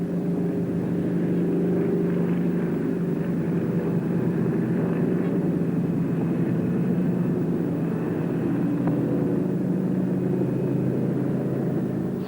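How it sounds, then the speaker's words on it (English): Helicopters landing Royal Marine commandos at Suez: a constant heavy engine and rotor drone with a low rumble, steady and loud throughout with no voices. "Royal Marine commandos carried out a landing by helicopter."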